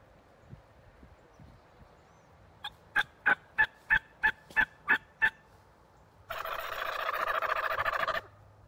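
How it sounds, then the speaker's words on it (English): A turkey hen call gives a run of about eight evenly spaced, sharp yelps, then a gobbler answers with a loud, rattling gobble lasting about two seconds, all heard alone in a quiet outdoor setting. "So I'll use a hen call"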